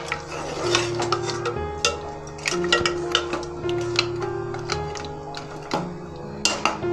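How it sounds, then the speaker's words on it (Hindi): Spoon scraping and clinking against a pot while yogurt is stirred into a beef chops curry, repeated close knocks and scrapes in an irregular rhythm over a faint steady hum. "अब इस स्टेज पर मैं इसमें मैंने 1 प्याली जो है वो दही लिया, वो ऐड कर दूँगी। अच्छी तरह से मिक्स करेंगे।"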